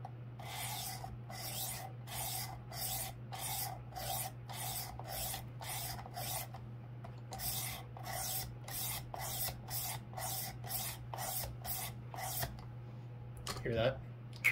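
Knife blade drawn repeatedly across the stone of a Worksharp Precision Adjust Elite while polishing toward a mirror edge: a steady run of even rasping strokes, close and clear over a low constant hum, ending in a brief clatter.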